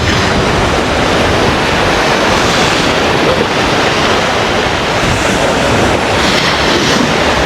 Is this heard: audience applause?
no